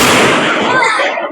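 A Diwali firecracker bursts with one loud, close blast whose crackle and hiss fade over about a second, with excited voices behind it.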